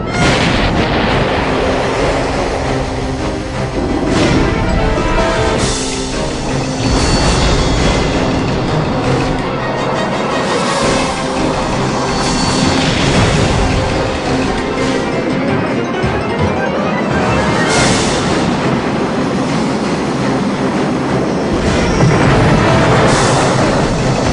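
A US rocket launch failure explosion roars loud and continuous, a dense rumbling blast with crackling bursts that swell and hold for the whole stretch, with no voices heard.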